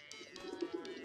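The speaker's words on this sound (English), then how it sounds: "you entrust it to one of your trained carrier pigeons, the lone Gunbirds" Carrier pigeon in the video game Hiveswap, a few soft throaty coos in quick succession, close and fairly quiet, heard alone.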